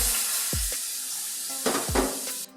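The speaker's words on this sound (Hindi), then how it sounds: "यहाँ पे बिल्कुल लो कर देंगे फ्लेम को और दूध डाल देंगे।" Milk added to a pan of flour mixture on a low flame for a chicken bread filling, stirred with a utensil: a light sizzle and wet bubbling under a few scraping strokes and soft clinks against the pan.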